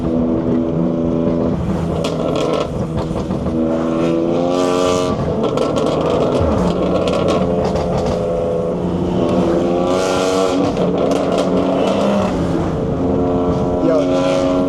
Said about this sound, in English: this car is loud as fuck